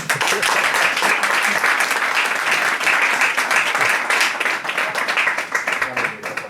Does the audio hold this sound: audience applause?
yes